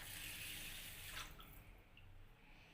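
Water from a tap or jug splashes into a vessel of raw rice for washing, a soft continuous trickle that thins and fades after about a second, quiet and close with no talking.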